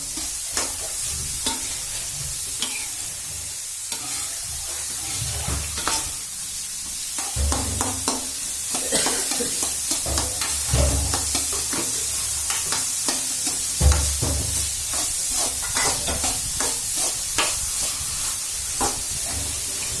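A bitter gourd stir-fry is stirred in a hot pan: a continuous sizzle, overlaid by frequent scraping and clinking spatula strokes, close and steady throughout, with no speech.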